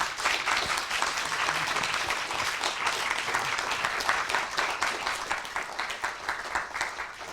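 A lecture audience applauds in a dense, sustained wash of many hands. The sound holds steady, then thins slightly and becomes more ragged toward the end, with no voices.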